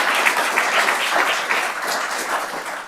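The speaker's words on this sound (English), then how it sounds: "I'm going to ask that we hold applause, please, this evening" Steady crowd applause at a city council meeting in Lake Mills, a dense, even wash of clapping that holds for three seconds before tapering slightly at the end, with no talk.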